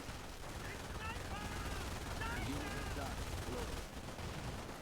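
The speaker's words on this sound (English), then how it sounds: "They really carry a heavy machine gun across that bridge under machine gun fire" Sustained machine gun fire in the Company of Heroes video game, a dense continuous rattle of battlefield gunfire filling the scene at steady loudness.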